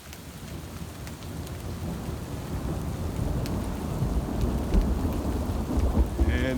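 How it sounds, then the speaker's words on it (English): Hail pelts down in a severe thunderstorm in Toms River, a dense crackling patter with sharp tapping hits and low rumbling, growing steadily louder across the clip. "And it's hailing again."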